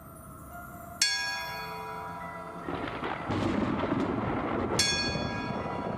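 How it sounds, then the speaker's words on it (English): A bell rung to summon a ghost strikes twice, each a bright clang with a long ringing decay, the second a few seconds after the first, over a low rumbling background. "I'll need to summon his ghost by ringing this bell."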